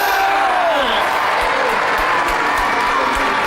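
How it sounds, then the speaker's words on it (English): A studio audience at a Robot Wars arena answers a disputed judges' decision with loud mixed applause, shouting and jeering. The crowd noise stays dense and continuous, with a few thumping beats underneath. "Quite controversial out there. Crowd don't like it."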